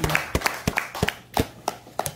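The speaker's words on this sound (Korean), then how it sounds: "여러분 박수 한번 드릴게요" Scattered, uneven clapping at a press corps gathering: a handful of separate sharp claps spaced irregularly, close and fairly loud, with brief gaps between them.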